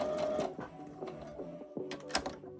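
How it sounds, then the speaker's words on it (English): Sewing machine running a straight top stitch close to the edge of a keyhole cutout on a bodysuit, a steady mechanical whirr with brief stops and restarts, close and alone. "Using a straight stitch, top stitch close to the edge of the cutout."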